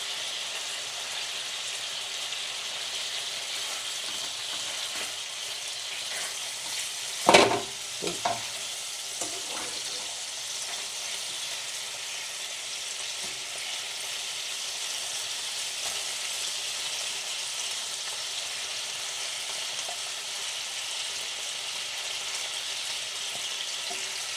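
Farmhouse-style pork sausages fry in a pan with a steady, even sizzle throughout, broken once by a brief louder clatter or stir partway through.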